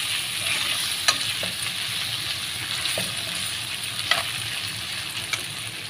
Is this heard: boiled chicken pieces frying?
yes